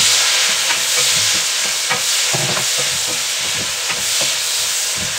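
Onion and tomato stir-fried in a pan until caramelized, a steady close sizzle and hiss with repeated scraping stirs of a spatula throughout, no voices.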